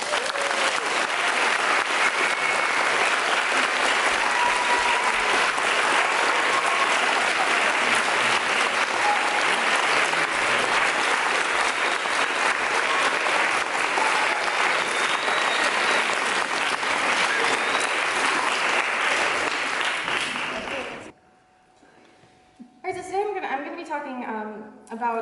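An audience in Norwich applauds steadily and warmly for over twenty seconds to welcome a speaker, a dense even clapping that stops abruptly before a voice begins talking.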